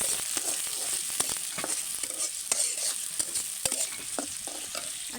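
Chopped onion frying in a pan, with a soft continuous sizzle punctuated by frequent clicks and scrapes of a spatula stirring, fairly quiet and close, with no talking.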